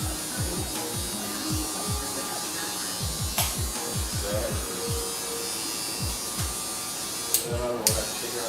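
Electric hair clippers with a half guard buzz steadily while blending a bald taper on ethnic hair, with repeated short sweeping strokes through the hair and a constant hum underneath.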